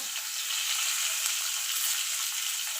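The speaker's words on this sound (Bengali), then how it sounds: "আলুগুলো ভেজে তুলে দেবো" Potatoes frying in oil with turmeric and salt give a steady, bright, even sizzle throughout, close and continuous with no talk.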